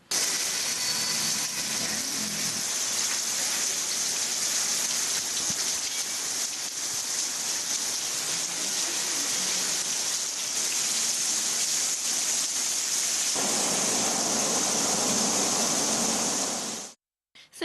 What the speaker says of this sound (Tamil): உதகையில் இன்று மதியம் ஒரு மணி நேரத்திற்கு மேலாக கனமழை பெய்தது